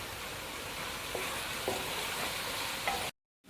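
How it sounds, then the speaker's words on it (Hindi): Chicken and tomatoes sizzle and fry in a pot as they are stirred, a quiet, steady crackle with a few soft scrapes before the sound cuts out abruptly. "अब फिर हम इसकी करेंगे भुनाई"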